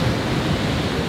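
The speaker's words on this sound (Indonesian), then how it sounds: "Lihat ombak." Ocean waves at a beach campsite make a loud, steady rushing wash of surf, heard close with no talking.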